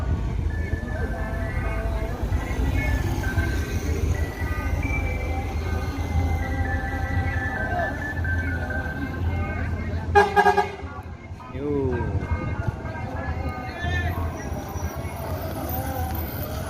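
A departing bus sounds a musical multi-tone horn in a short burst mid-clip, heard over steady engine rumble and road noise along a route from Payakumbuh.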